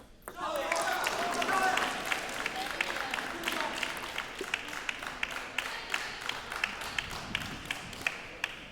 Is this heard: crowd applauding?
yes